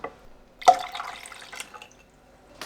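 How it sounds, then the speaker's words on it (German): A little water is added while preparing food in a home kitchen, a brief splash followed by a few soft trickles and drips, quiet and close. "Ich mache jetzt noch mal ein bisschen Wasser dazu."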